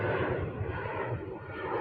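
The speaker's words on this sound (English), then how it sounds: "Let the plane go by." An airplane passes overhead as a steady, broad engine roar, fairly distant and continuous for the whole short stretch with no other sounds.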